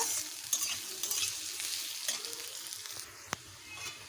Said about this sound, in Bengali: পেঁয়াজগুলোকে আমি লাল লাল করে ভেজে নেব